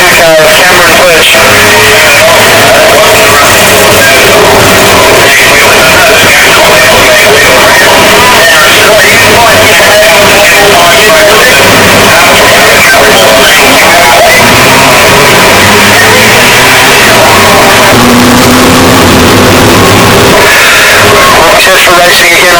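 Outlaw sedans racing in a heat at Macs Speedway during the Australian Outlaw Sedan Title, a loud constant roar of engines that swells and fades as cars pass, with an announcer commentating over it.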